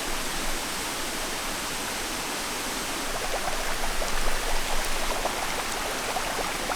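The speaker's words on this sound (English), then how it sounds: "We're at the top of the tallest waterfall in Costa Rica, watching sunset now." Diamante Falls, the tallest waterfall in Costa Rica at about 600 feet, gives a steady, hissing rush of falling water heard from its top, continuous and moderately loud with no one speaking.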